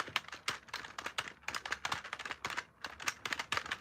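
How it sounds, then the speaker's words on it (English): Rapid, close typing on a computer keyboard, with a dense run of crisp key clicks and clacks at an uneven rhythm, heard alone without talking. "That sounds like a proper keyboard"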